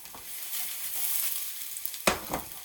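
Aubergines sizzle in a hot pan with sesame oil, a steady close crackle with a few louder spits and hisses near the end.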